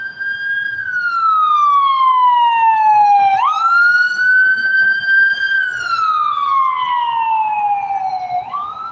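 Ambulance siren wailing loud and close, a slow rising-and-falling tone that sweeps down and jumps back up twice.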